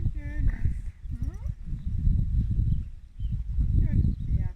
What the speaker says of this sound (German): Ein schönes Pferd.